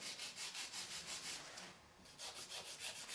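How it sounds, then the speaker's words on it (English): A nail file is drawn back and forth over acrylic nails while shaping them into a ballerina tip, making rapid, even rasping strokes that pause briefly and then resume, close up and quiet. "We're going to refile this. We're filing these into a ballerina shape."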